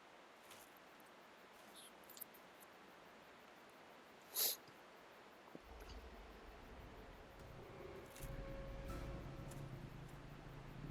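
A dog-like wolf enemy in Dark Souls lets out a single short snarl or yelp midway, rising sharply over quiet game ambience before a low rumbling background swells in.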